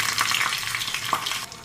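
Tempering of cumin, mustard seeds, dried chillies, crushed garlic cloves and green chillies crackles in hot oil, a close, loud, continuous sizzle with brief spits and pops.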